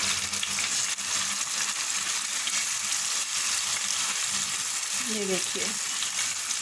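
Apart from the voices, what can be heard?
stirring spicy chicken pieces frying in a pan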